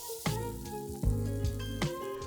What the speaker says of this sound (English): I give that a quick sauté